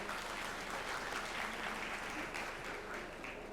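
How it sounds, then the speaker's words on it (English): Warm audience applause at a corporate sustainability presentation, a steady dense wash of many hands clapping at even loudness throughout, with no talk over it. "So please give Dedy a warm applause."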